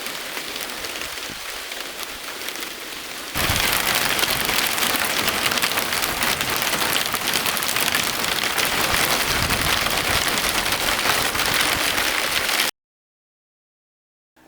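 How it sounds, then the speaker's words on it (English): Rain falls steadily on a garden, a dense, even hiss that grows noticeably heavier after a few seconds and then cuts off abruptly. "We're finishing up just in time for the rain to start."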